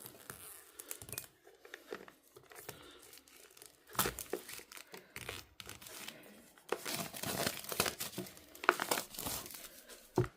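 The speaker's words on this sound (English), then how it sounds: "let's unbox this" Close crinkling and tearing of plastic wrap and packaging on a 44-card oracle deck by Brockpool, in irregular bursts of rustling that grow busier toward the end, with no speech.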